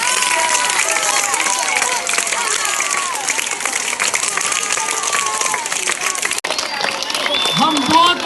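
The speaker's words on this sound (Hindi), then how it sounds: "इनके लिए और तालियां करें।" Audience applause for a senior teacher, dense continuous clapping with crowd voices and cheers mixed in, steady and loud, briefly dropping before picking up again near the end.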